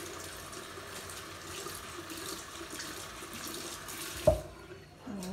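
Tap water runs in a steady soft stream for wetting hair tips before a haircut, fairly faint and alone, with a brief clunk near the end as the flow stops.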